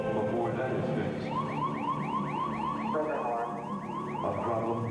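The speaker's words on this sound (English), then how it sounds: "a problem with the onboard computer. The 1202 alarm." Repeated rising electronic alarm tone, like a car alarm, given as the 1202 program alarm from the Apollo 11 lunar module's onboard computer during descent, cycling steadily at a fast rhythm under a voice speaking throughout.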